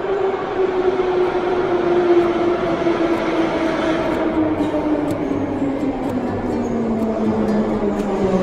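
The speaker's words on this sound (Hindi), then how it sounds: "ये आगे है भाई मेट्रो, लेकिन काफ़ी ज़्यादा आवाज़ करती है ये।" A Moscow metro train pulls in with a loud, continuous roar and a high whine that slowly drops in pitch as it slows, close by in an underground station.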